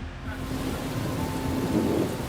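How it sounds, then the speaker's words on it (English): Heavy rain pours in through roof vents at Paddington station in London, a steady close roar of water with a low rumble underneath and no talking. "the direction of the rain is coming in through the gaps"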